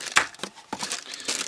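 A black plastic bag is crumpled close up, giving a few sharp crinkling rustles and crackles in quick irregular bursts.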